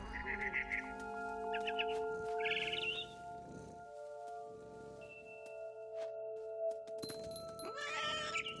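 A cat meows a few times over steady synthetic game music in What Remains of Edith Finch, with sharp chirpy bird-like calls mixed in.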